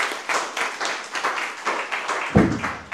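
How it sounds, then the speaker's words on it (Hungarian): An audience claps for the artist Thomas Dambo at a public event in Vásárhely, with fairly sparse, distinct claps in a loose rhythm and one louder close thump near the end. "egy nagy tapsot kérünk Dambónak"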